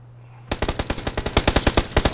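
Automatic gunfire in PUBG on the Miramar map, shots aimed at a player behind a rock: after brief quiet, a close, loud rapid burst of about fifteen evenly spaced shots continues to the end.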